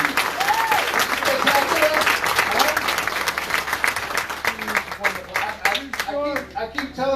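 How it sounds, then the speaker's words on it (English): Convention audience applauding loudly for about six seconds, dense steady clapping tapering near the end as a few voices and cheers rise through it. "Let's give Susan a round of applause"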